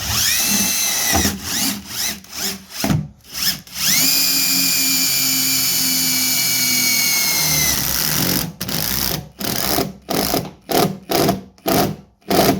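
A power driver runs a bolt through a building panel in repeated bursts: one long whining spin-down, then a rapid series of short revving pulses near and loud, with no talk.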